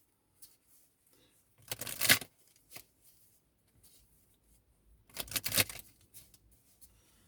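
Spiritual tarot cards being shuffled by hand: two separate bursts of brisk riffling and flapping, close by, with quiet gaps and small handling sounds between them.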